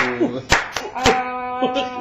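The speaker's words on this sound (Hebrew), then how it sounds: "כפיים, כפיים." A young child claps hands at home, a few uneven claps close by with an adult voice talking over them.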